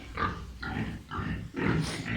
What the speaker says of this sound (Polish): Tu są wszędzie młode świnie.